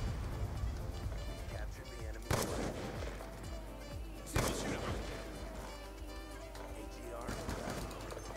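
Sniper rifle shots from a DSR 50 in a video game, with two or three loud sharp cracks spaced a couple of seconds apart over steady game noise while a person talks.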